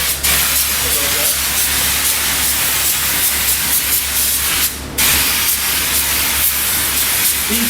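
A spray gun applies toner to door faces in a steady, loud, continuous hiss that breaks off briefly near the end before resuming.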